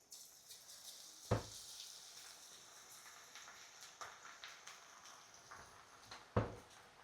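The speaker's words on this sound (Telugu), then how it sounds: "ఇలా ఆయిల్లో వేసుకొని చక్కగా గోల్డెన్ బ్రౌన్ కలర్ వచ్చేంత వరకు దగ్గరుండి పకోడీని ఫ్రై చేసుకోవాలి" Onion pakoda batter deep-frying in hot oil, a steady soft sizzle running throughout with two sharp clacks from a utensil near the beginning and end.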